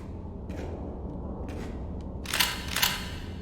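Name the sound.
bolt gun firing in a video game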